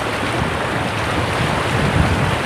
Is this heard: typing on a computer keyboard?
no